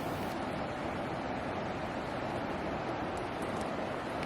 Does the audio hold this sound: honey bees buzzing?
no